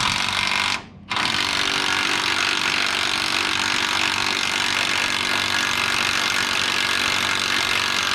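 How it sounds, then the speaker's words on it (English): A continuous loud power tool whirs on a truck's bottom leaf-spring shackle bolt during a lowering shackle and hanger install on a 1999-2007 Silverado or Sierra, broken by a short pause near the start and then running steadily. "I'm loosening this bottom shackle bolt."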